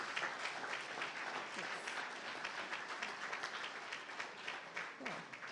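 Applause from a seated audience after a talk on membership growth, even continuous clapping that stays fairly quiet and distant throughout, with no voices standing out.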